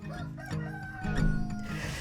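Chickens and roosters in Fair Oaks, Sacramento County, cluck and crow steadily at close range, several birds overlapping in a continuous farmyard chorus with no talking.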